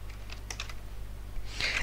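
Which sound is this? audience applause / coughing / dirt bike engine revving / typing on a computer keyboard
typing on a computer keyboard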